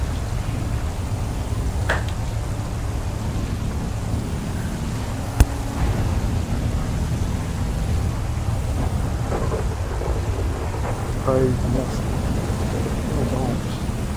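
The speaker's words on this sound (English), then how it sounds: "the noise of the helicopters is definitely going to be covered by the thunder and the rain" Steady rain and rumbling thunder in GTA 5 roleplay, a continuous storm bed with one sharp crack midway, and voices talking over it at times.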